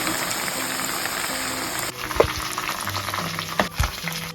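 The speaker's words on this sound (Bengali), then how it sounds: "মাংসটাকে আমি ভালো করে ভাজবো" Chicken pieces fry in hot oil for biryani, crackling in a dense sizzle that drops back after a couple of seconds, with a few utensil clinks and scrapes as the meat is stirred and turned.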